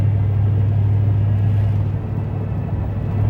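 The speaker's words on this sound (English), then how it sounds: "the whining noise" A steady, low droning whine comes from the corroded rear end of a 3/4-ton Ford Super Duty truck with a 5.4 3V engine, heard while driving over constant road rumble, loud and unbroken, with no talking.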